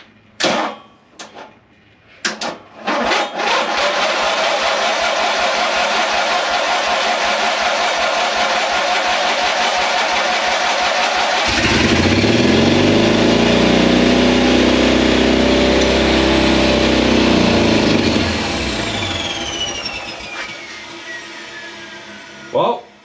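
Turbocharged ride-on lawn mower engine cranks in a few rough bursts, then catches and runs steadily at a high idle, growing louder and throbbing midway before easing off and stopping near the end.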